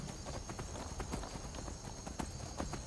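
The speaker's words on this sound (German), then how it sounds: "Unser Pferd kann auf einmal so lange so schnell rennen. Sagt man nicht galoppieren dazu?" Steady clip-clop of galloping hooves from a horse in the video game Skyrim, fast and rhythmic, close and continuous over a low rumbling background.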